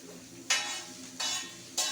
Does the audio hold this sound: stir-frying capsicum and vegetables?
yes